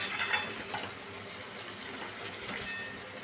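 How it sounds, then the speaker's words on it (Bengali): Chichinga (snake gourd) sizzles with spices in a pan while being stirred, a steady close frying hiss with light scraping strokes throughout and no talking. "ভালো করে মশলার সাথে এটাকে কষিয়ে নিতে হবে।"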